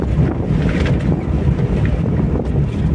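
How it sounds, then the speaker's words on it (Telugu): Sea breeze blows steadily across an Andhra Pradesh seashore, a continuous low roar of wind buffeting the microphone with no voices. "గాలి వస్తుంది, సముద్రపు గాలి"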